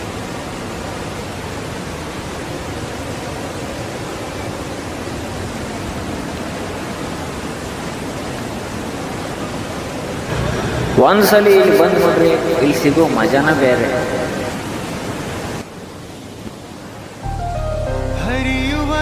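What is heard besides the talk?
Godchinamalki waterfall, Gokak, rushing water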